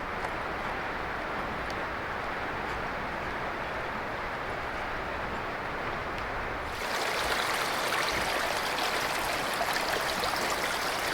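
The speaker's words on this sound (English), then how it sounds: "Kind of nice listening to the stream and then the louder river in the background." Steady broadband rush of a stream flowing beside old ruins along the Rappahannock River near Fredericksburg, Virginia, with the louder roar of the river behind it; the wash stays constant, then swells and brightens partway through.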